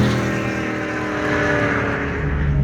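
A car engine running steadily at a Wakefield Park track day, a loud, continuous drone that rises slightly toward the end with no talking over it.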